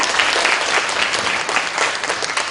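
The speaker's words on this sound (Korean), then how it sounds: "박수 부탁드릴게요." A forum audience applauds steadily for a couple of seconds, with dense, even clapping from many hands filling the room at a fairly loud level and no voices on top.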